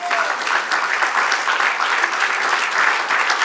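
A church congregation claps steadily in dense, continuous applause that stays loud and even throughout, with some voices mixed in.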